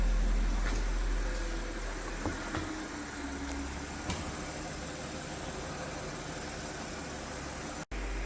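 An Audi Q5 3.0T Quattro engine idles just after start-up, a low rumble strongest at first that then settles into a quiet, steady hum with faint noise.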